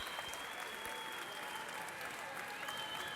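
A standing crowd applauds steadily at a female fight in the LUX Fight League, a dense, continuous wash of clapping in a large arena that holds even throughout, with a faint voice under it.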